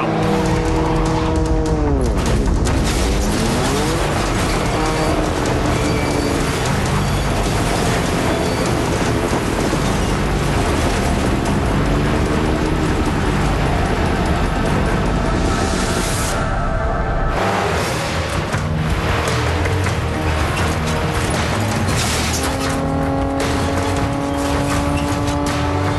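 A Mazda RX-7 race car screams past at very high speed on a record attempt, its engine roaring loud and continuous with rising and falling pitch sweeps as it accelerates, with a brief dip before the drone resumes.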